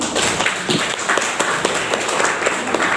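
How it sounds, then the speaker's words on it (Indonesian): Crowd applause at the closing ceremony of a 3-in-1 training course in Lamongan, a steady wash of many hands clapping with sharp individual claps standing out, continuous for the whole stretch. "kita tepuk tangan dulu"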